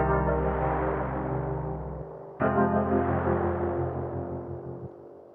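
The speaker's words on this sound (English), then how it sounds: "that's what gives it that washing sound, the movement of the reverb." Sustained chords swim in a lush, shimmering modulated reverb from Native Instruments Raum, modulation and rate turned up, with a slow wavering wash, two long swells, loud and close with no voices.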